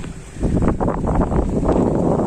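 Strong wind buffets the microphone at a night fishing spot, a loud steady roar with gusty rumbles throughout and no voices.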